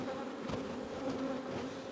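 Honeybees buzz densely around two opened hives being merged into one colony, a continuous close swarm hum with individual bees passing nearby, steady and loud with no voices.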